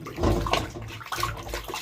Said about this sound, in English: Running water and wash them like this.